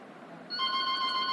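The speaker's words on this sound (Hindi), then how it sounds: "एक सेकंड यार फोन आ रहा है रुको" A telephone starts ringing halfway through, a steady bright electronic tone that enters abruptly and holds over a quiet room hiss.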